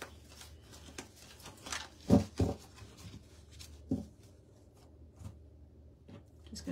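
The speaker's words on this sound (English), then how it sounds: "Just gonna go ahead and shuffle the Hebrew letters." Hebrew letter cards are shuffled by hand close by, producing soft irregular rustles and a few sharper flicks and slaps spaced across the passage, quiet between bursts.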